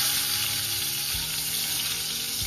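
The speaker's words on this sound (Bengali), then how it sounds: "দুটো সাইডই সুন্দর ভাজা ভাজা হয়ে গেছে" Pointed gourd (parwal) pieces frying in oil in a pan, a steady bright sizzling hiss with a few low bubbling thumps underneath.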